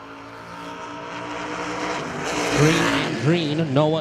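The Gibson's Racing S10 drag car roars down the drag strip with a loud, steady engine note that rises toward the end, heard at a distance over the track.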